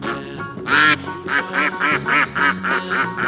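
A duck quacks in a quick run of about eight loud, close calls, evenly spaced, over a faint steady musical tone.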